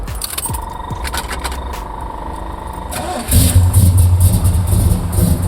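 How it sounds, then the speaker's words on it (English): A 1972 Chevelle with a 454 big block V8 cranks over after a brief jingle of keys and fires up, settling into a loud, rumbling idle with a lopey cam pulse. "What do you say I start this thing up? You get to hear it idle"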